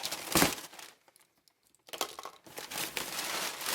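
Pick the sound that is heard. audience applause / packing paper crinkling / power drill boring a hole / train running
packing paper crinkling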